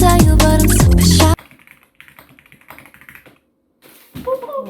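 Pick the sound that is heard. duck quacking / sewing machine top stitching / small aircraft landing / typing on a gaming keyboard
typing on a gaming keyboard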